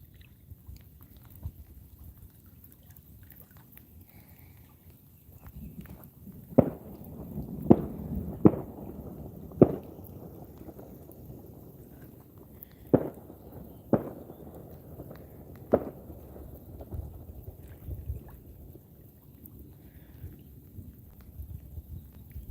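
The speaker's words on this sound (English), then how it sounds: "People shooting off fireworks out in the" Distant fireworks pop and thump across a lake in a light rain. Scattered sharp bangs, some in quick clusters, rise over a faint, steady background.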